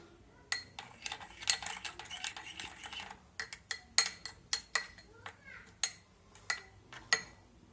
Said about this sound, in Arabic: غادي نزيدو بحال هكا، وغادي نخلط المكونات